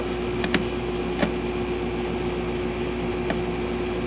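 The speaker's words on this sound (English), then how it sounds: "I have the air conditioner on." An air conditioner runs indoors in a room where a computer is being assembled, giving a steady, even hum with a few faint clicks scattered over it.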